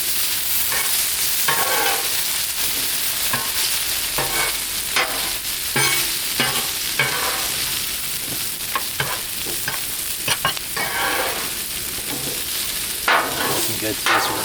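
Potatoes and vegetables sizzling on a Blackstone griddle outdoors in the rain while being stirred and scraped with a spatula, a constant loud frying hiss broken by repeated metallic scrapes and clacks.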